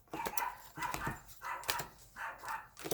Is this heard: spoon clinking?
no